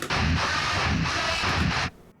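A single sustained, noisy warbling tone with a buzzy, scraped texture holds for nearly two seconds, then cuts off: guitar notes played off the fretboard, pitch-shifted up octaves with vibrato.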